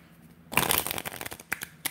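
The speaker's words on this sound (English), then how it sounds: "Let me see if I can riffle shuffle the 2 of hearts into position here." A deck of playing cards is riffle shuffled close up: a sudden burst of rapid fluttering card slaps, then a few sharp snaps and taps as the cards settle and are squared.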